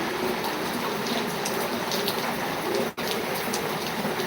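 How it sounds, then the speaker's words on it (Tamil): Steady rain falling in a Chennai neighbourhood (Guindy), a dense continuous hiss of drops on surfaces with brief splashy accents, broken by one short dropout near the end. "மழை பெய்யுது தெரியுதா"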